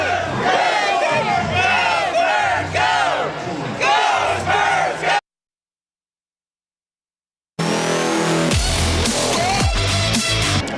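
A crowd in Brooklyn on NBA Draft night cheers and shouts loudly into a live TV news broadcast, a dense roar of many voices that cuts out abruptly to silence, then bursts back in just as loud.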